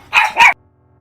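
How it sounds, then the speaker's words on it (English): A dog gives two sharp, loud barks in quick succession close by in a home, then falls quiet. "My dog's tripping off in the background"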